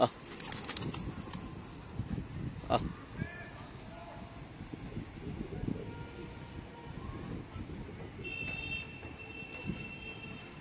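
Pigeons on a rooftop, with soft wing flaps and faint cooing scattered through a busy outdoor background, a sharp flutter near the middle, and a person talking nearby.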